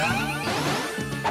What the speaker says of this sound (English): Huh, one hammer hit kills him.